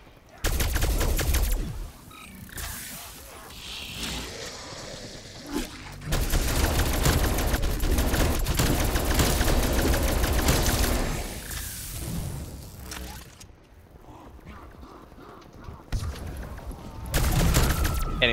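Gunfire against zombies in Call of Duty Cold War Zombies: loud sustained bursts of automatic fire and rapid shots with booms and whooshes, dropping briefly into quieter stretches before resuming, with occasional speech.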